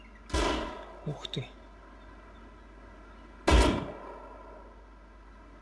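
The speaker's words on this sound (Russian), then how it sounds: "Там, ребятки, стрельба идет" Gunfire in the video game Rust at a port: two sharp broadband bursts a few seconds apart, with a couple of fainter short cracks between them, set against steady ambient hiss. A voice speaks briefly.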